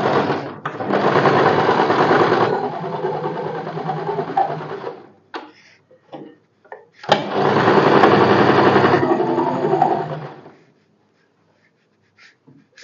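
Sewing machine double-stitching blouse piping strips together, good side on good side: two long, steady runs of close, loud whirring and needle chatter separated by a short pause with small handling noises.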